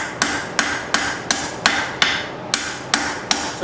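Close, steady hammer strikes on hot square steel stock, blending a smooth taper into the round during banister hook forging, about nine bright metallic blows at an even rhythm with one brief pause, alone without speech.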